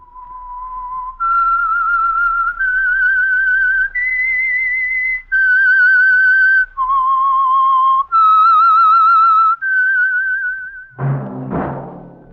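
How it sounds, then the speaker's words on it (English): A lone whistled melody serves as the signal for the Signal Oil radio program The Whistler, a clear sequence of about eight sustained, slightly wavering notes rising and falling, followed by a brief orchestral hit at the end. "That whistle is your signal for the Signal Oil program, The Whistler."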